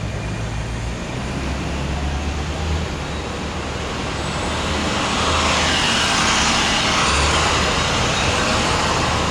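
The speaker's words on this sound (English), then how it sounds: "The traffic's pretty heavy." Heavy street traffic on East 57th Street in Manhattan, New York: a steady, loud roar of car, bus and truck engines and tyres that swells slightly toward the end, with no voices.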